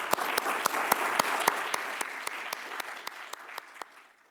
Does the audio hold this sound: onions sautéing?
no